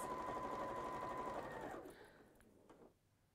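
A domestic sewing machine tacks a seam, whirring steadily and close for under two seconds before stopping, leaving faint handling sounds.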